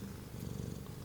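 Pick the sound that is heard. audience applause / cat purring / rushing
cat purring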